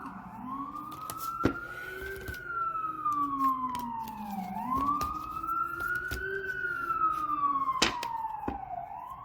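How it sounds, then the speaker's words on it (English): Emergency vehicle sirens passing in the distance, a slow rising and falling wail repeating in long sweeps, moderately faint, with scattered background clicks and low traffic rumble. "wait for the sirens to pass"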